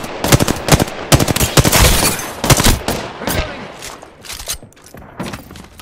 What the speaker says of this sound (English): Getting shot at! Third shot's fired, and they're hitting me.